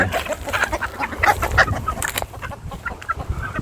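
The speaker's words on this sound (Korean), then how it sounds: "시골 토종닭들이 이렇게 있네요." Native country chickens at a rural farm beside a hanok cafe, clucking and squawking in a busy overlapping chorus, close and fairly loud, with some honking calls among them.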